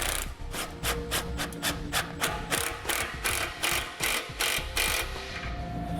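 Ratchet wrench tightening a 15 millimeter bolt while installing a Curt trailer hitch receiver on a 2016 Nissan Altima, rapid rhythmic bursts of ratcheting clicks repeated in quick strokes, close and clear.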